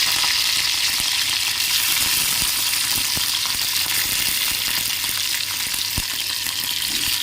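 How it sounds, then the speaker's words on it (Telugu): Green chillies hit hot oil with a loud, continuous sizzle and spatter, a close frying roar broken by occasional sharp pops and stirring clicks. "ఆయిల్ హీట్ అయ్యాక పచ్చిమిర్చి వేసుకోవాలి."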